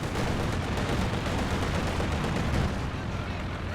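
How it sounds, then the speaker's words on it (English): Dense, continuous battle din from a Company of Heroes 2 match, with airstrikes pounding armored vehicles amid steady gunfire and artillery rumble, loud and unbroken throughout. "Also, we have airstrikes coming in on all the armor here."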